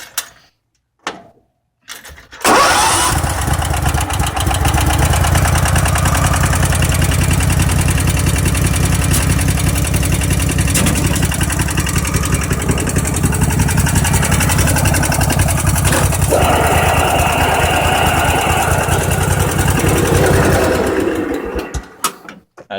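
Craftsman riding mower engine cold-starting and then idling, a loud, steady running drone close by that holds for about twenty seconds before cutting off.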